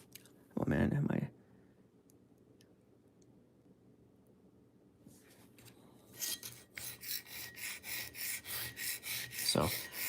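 Kitchen knife drawn across a diamond sharpening stone in Reno, Nevada, giving a quick early rasp and then a steady run of repeated scraping strokes, close and fairly loud, with a brief thump near the end.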